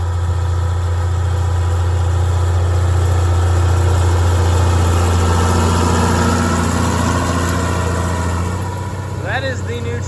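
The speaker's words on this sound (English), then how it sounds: "That is the new tractor" An IH 686 tractor sits at a steady, deep idle, its low engine rumble droning evenly throughout, with a brief rattle near the end.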